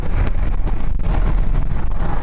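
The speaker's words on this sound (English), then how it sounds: "It's too windy." Strong wind roars across an outdoor microphone during a storm chase on a tornado outbreak day, a loud, continuous buffeting rumble with gusty fluctuations and no voices.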